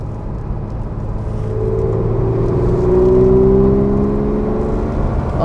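A 1966 Porsche 911 SWB in original condition heard from inside while driving, its engine droning and rising in pitch as it accelerates under steady road rumble, without speech.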